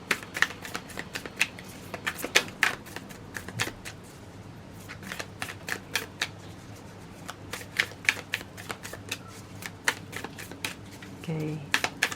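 Tarot and oracle cards being shuffled and drawn, a steady run of crisp riffles and flicks, close and fairly loud, with someone speaking intermittently over them.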